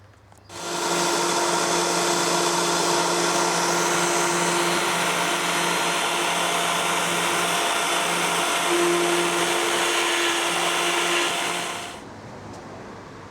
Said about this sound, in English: I'm going to do it on my bench drill.